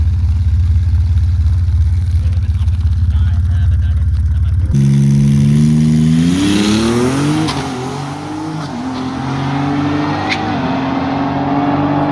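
A Cadillac ATS-V with a twin-turbo V6 at a drag strip idles loudly, then launches with a rising engine roar through several upshifts that fades into the distance, with voices and crowd noise around it.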